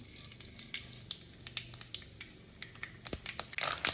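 Mustard seeds pop and sizzle in hot oil in a pan, quick irregular crackling ticks over a soft frying hiss, growing busier and louder toward the end, no voices.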